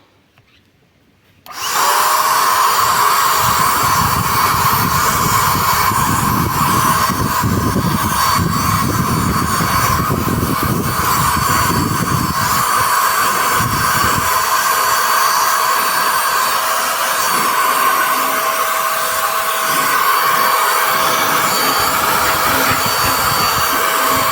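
LEADER Lite BD20-SL1 cordless paint sprayer starts with a sudden click into a loud, steady motorized whine and hiss, running continuously while spraying paint, with no talk over it.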